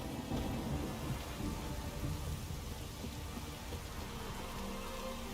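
Steady rain with deep low rumbles of thunder in The Witcher 3 video game, a dense continuous wash filling the whole stretch with no voices.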